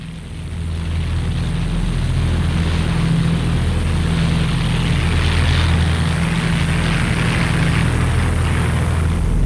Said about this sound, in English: Allied heavy bombers were used in Normandy as support to the ground troops.